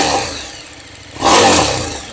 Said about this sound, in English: That lovely V-twin rumble.